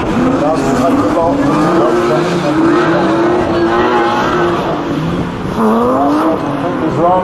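A drift car slides through a competition run, its engine droning loudly and steadily while tires squeal continuously at close range, with a commentator talking over the noise.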